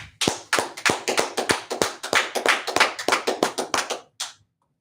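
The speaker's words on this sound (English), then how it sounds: "Let's clap it up." At the end of a scripture study class, a single close, crisp run of steady claps, about twenty in even rhythm, stops abruptly with one last clap.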